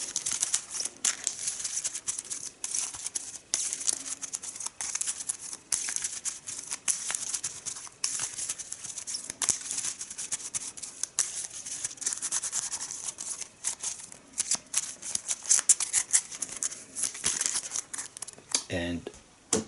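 Playing cards are riffled and shuffled with a continuous crisp, papery flutter of rapid ticks and crinkles.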